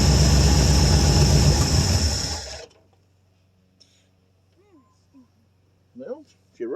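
A 1973 Ford Gran Torino Sport with a 351 Cleveland V8, off the road for 30 years, runs loud and rough for about two and a half seconds and then shuts off, leaving quiet with brief voices.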